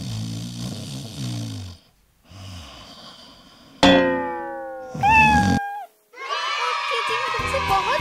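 A kitten cries in several high, drawn-out mews between stretches of noisy breathing-like rumble, close to the microphone, in a home setting.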